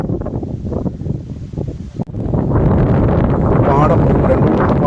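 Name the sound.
wind blowing over sunflower field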